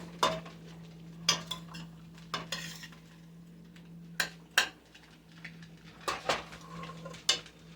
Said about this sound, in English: I'm going to give this a good stir. We want to brown up that meat just a little bit.